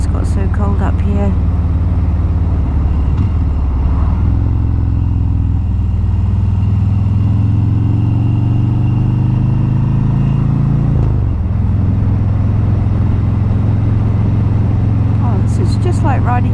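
A Harley Davidson motorcycle rides a road between Cairns and Atherton in Australia, its engine droning as a loud, steady low rumble that rises and falls with throttle, with wind noise and brief talk at the start and end.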